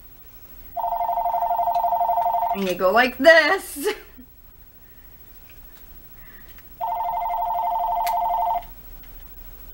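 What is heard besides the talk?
telephone ringing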